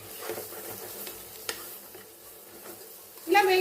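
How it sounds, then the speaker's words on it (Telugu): Boiled eggs lightly frying in oil over a medium flame for egg masala curry, a soft, faint sizzle with a few light clicks and a louder scrape near the end. "ఈ ఎగ్స్ అనేది మనం బాయిల్ చేసిన ఎగ్స్ అనేది కొద్దిగా లైట్గా వేయించుకుందామండి"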